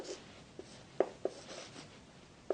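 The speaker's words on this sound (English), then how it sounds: "If we write it down just here," A pen scratches out handwritten notes in a few short, faint strokes and taps, close and quiet with no talking.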